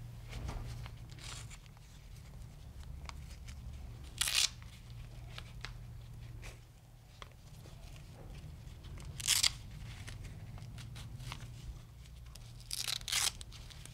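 Hook-and-loop straps on a back brace are peeled open in three separate short, crisp rips, spaced several seconds apart over a quiet low hum.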